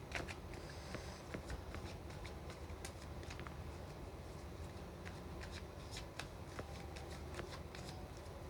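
A tarot deck is shuffled by hand, with soft continuous riffling and sharp card flicks scattered throughout, faint and close, with no talking.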